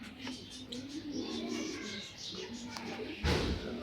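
Racer pigeon chicks of a Netherlands bloodline coo softly in a box, low murmuring coos close by under background noise, ending in a brief louder thump.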